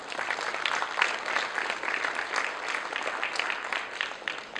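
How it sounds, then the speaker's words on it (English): Audience giving a sustained round of applause at a formal event honoring EU and TRTA partners, a steady, moderately loud wash of clapping throughout. "Let's give them a big round of applause,"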